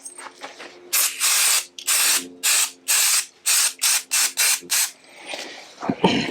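Spray blasting down the flywheel of a 1969 Triumph Spitfire Mk3 engine: about ten loud, close hissing bursts in a steady rhythm, each lasting a fraction of a second, with brief faint clatter after.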